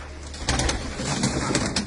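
Several domestic pigeons coo in low, throaty bursts close by, the calls overlapping against a steady background hum.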